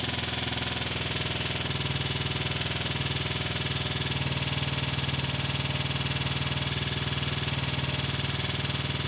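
Triumph Tiger Cub motorcycle with a Zenith carburettor and 6-volt system idles on half choke, its single-cylinder engine putting out a close, steady rapid chug with regular pulses, uneven at times.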